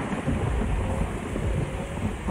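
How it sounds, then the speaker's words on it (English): Thunder from a rain weather mod in Euro Truck Simulator 2, a loud continuous low rumble rolling over steady rainfall and wind, sustained without breaks. "Just hear that sound of thunder."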